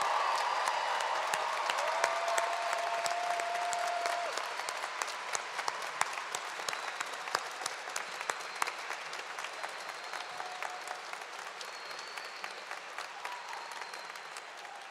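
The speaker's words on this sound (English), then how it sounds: "a big applause for the 2024 graduates" A large crowd applauds the 2024 graduates at a college of creative arts commencement ceremony, loud sustained clapping with some cheering that gradually thins and softens over about fifteen seconds.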